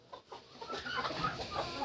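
A bantam hen clucks repeatedly in a farmyard, with soft, close calls coming in an uneven rhythm and no talking over them.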